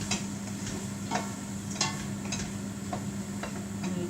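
Mushrooms and onion being stirred in a pan, a soft scraping and gentle sizzle with scattered light clicks of the utensil against the pan, steady and close over a low background hum.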